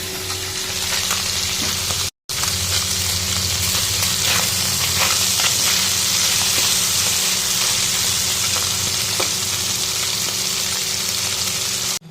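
Small mourala fish frying in hot oil, a loud, dense, continuous sizzle with crackling bursts, broken by a brief silent gap early on.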